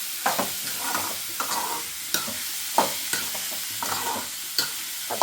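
Food fries in a pan with a soft background sizzle, punctuated every half second or so by sharp clacks and scrapes of a spoon stirring it. The stirring is close and the sizzle moderate, with no talking.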